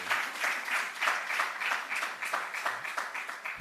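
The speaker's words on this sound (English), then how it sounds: "Clap him now." An audience at an e-learning training awards ceremony claps for a professor, a dense, steady patter of many hands at moderate distance with no voices over it.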